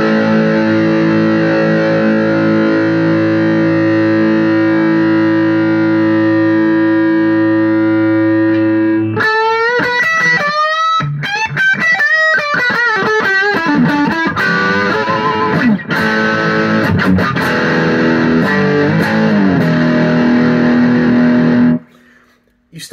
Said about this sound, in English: just a distortion pedal.